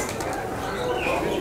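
Pigeons coo at a pigeon market in Sapen, Wonosobo, soft low calls mixed into a busy crowd murmur, close and steady throughout.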